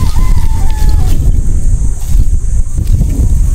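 Steady low rumbling wind buffeting a microphone outdoors, continuous throughout with no voices.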